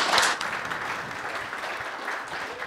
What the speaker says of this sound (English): Let's give our gathering participants a round of applause as they return to their seats.